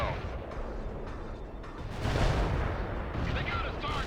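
Heavy bombs from an airstrike blast in World in Conflict, a dense low rumbling roar that swells near the midpoint and stays loud to the end, with faint voices under the din.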